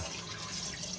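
A glass of water pours into kala masala mutton in a pressure cooker, a brief, steady splashing stream that is close and moderately loud, with no voices.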